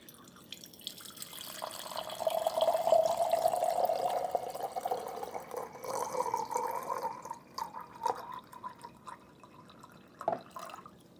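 Half a liter of water poured through a Kalita Wave coffee dripper, a steady close trickling and splashing stream that swells, holds for several seconds, then thins into sparse drips.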